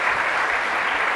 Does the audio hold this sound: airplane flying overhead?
no